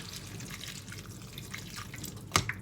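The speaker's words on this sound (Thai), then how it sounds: "ใส่ผักลงไปแล้วก็เติมน้ำเลยค่ะ" Water poured into a pot of vegetables for Thai rad na, a faint continuous trickle and splash with a few drips, ending in a sharper splash near the close.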